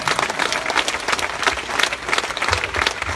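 Concert audience applauding at a vocal music festival in Tauragė, a dense, steady wash of many hands clapping throughout, loud and close with no speech over it.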